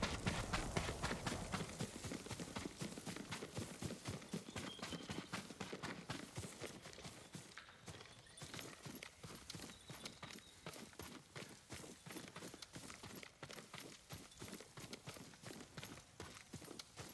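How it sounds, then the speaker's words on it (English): Horse hooves clip-clopping steadily in the Ghost of Tsushima video game, a dense run of hoof strikes that stays fairly loud and close throughout, easing slightly in the second half. "Yuriko's horse."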